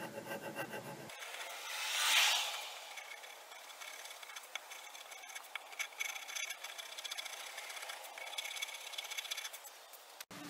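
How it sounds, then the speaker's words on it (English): A chisel scrapes primer off painted wood on a pedestal kitchen table, a steady close rasping rub that swells briefly near the start and then continues evenly. "the chisel also helps in going through and removing some of that primer"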